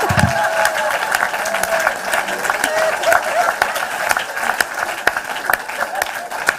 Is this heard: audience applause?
yes